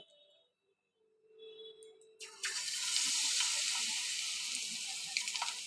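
Egg pakoras dipped in batter drop into hot refined oil in a wok, a quiet clatter and soft tone giving way to a sudden, steady bubbling sizzle that continues to the end.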